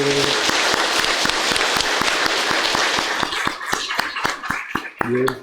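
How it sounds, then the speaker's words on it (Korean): A church congregation at a Sunday service applauds in a full, busy burst that thins out into a few slower, separate claps, with a voice speaking briefly at the end. "박수로 격려하겠습니다"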